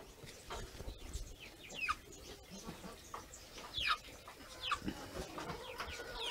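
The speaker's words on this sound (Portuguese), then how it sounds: "É pintinho de apartamento." Small chicks kept indoors in an apartment peep in short high chirps scattered through a quiet room, faint and close, with occasional soft rustling and handling noises.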